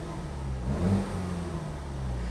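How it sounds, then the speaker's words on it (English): A 2012 Opel Astra OPC engine is revved while the car sits parked. The note swells briefly to a peak partway through, then settles back to a steady idle hum, close up with no talking. "So let me give her some revs so you can hear what she sounds like."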